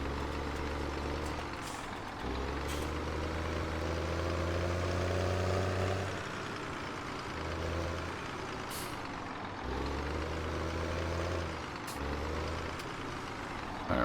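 Tractor engine in the video game Farming Simulator 17, a steady low drone that swells and drops over several working passes, with an air-brake hiss partway through and a constant mechanical background.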